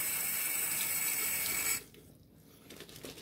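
Tap water runs steadily while shaving soap is lathered, a continuous wash that stops abruptly partway through, leaving quieter faint handling sounds.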